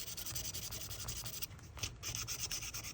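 Light hand sanding with 400 grit sandpaper, a faint, close, continuous rubbing with gentle back-and-forth strokes and a brief lull partway through.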